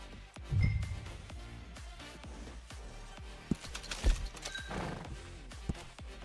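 A horse whinnies loudly near the start in Red Dead Redemption 2, then hooves clip-clop and shuffle close by, with further snorts and scattered thuds over game-like ambience.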